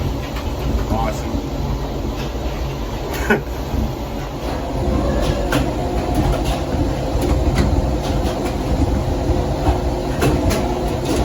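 A tram car at the Gateway Arch rumbles steadily along its tracks, with intermittent clicks and clacks over a low, continuous rolling drone.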